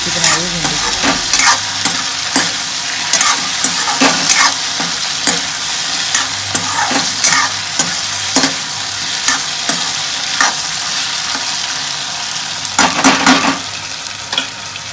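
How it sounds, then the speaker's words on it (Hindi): Okra (bhindi) sabzi sizzles steadily in a hot pan while a spoon stirs it in repeated scraping strokes, loud and close with no talk. "तो यहाँ पे वही भिंडी की सब्ज़ी बना रही हूँ, भिंडी की।"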